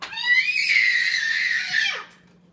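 A high, sustained scream rings out for about two seconds, then trails off, clear but set somewhat back from the microphone, with no talk over it.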